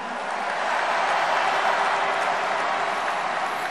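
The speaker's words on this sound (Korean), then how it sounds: "최승 동지에게도 뜨거운 박수 보내주십시오" Sustained audience applause fills a political rally at a Democratic Party presidential primary campaign event in Korea, a dense steady wash of clapping and crowd noise with no pauses throughout.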